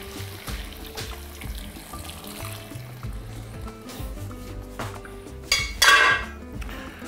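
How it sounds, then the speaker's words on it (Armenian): Two cups of chicken broth pour into a pot for a pork and cauliflower stew, giving a soft, continuous trickle. A louder splash and clink of cookware come near the end. "Ավելացնում ենք նաև 2 բաժակ հավի արգանակ։"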